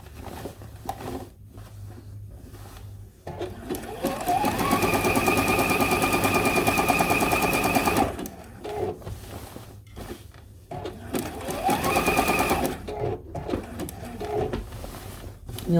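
A sewing machine stitches a bulky Christmas tree quilt top in two sustained whirring bursts separated by pauses, with quieter shuffling of fabric between the runs.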